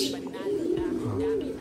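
Racing pigeons coo softly in a loft, a short low burbling call close by, with a person talking over it.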